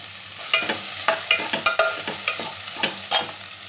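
A spoon scrapes and stirs ginger, garlic, green chilies and carrot frying in a pan, making a run of close, rhythmic scraping strokes over a soft, steady sizzle, with no talk.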